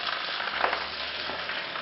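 Fresh spinach leaves stirred in oil in a pan over medium heat, a dense, even close sizzle with a brief louder scrape partway through, no voices.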